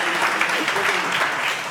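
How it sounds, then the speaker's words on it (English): An audience at a live gaming event claps loudly for a player being introduced on stage, a dense continuous burst of applause lasting under two seconds. "A round of applause."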